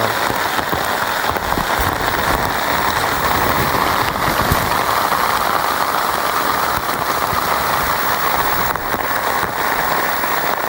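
A downpour drums steadily in the wild, an unbroken roar of heavy rain close by, with no voices.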